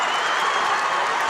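Crowd at a boys' high school basketball tournament game between Ashland Blazer and Boyd County roars in a steady, loud wash of cheering and applause, sustained without break.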